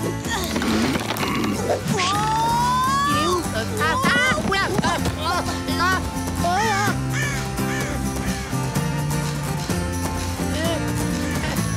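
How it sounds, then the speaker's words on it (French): Crows caw repeatedly during an attack scene in an animated animal cartoon, their cries mixed with busy music and sound effects throughout. "Wanji, vite, les corbeaux repassent à l'attaque"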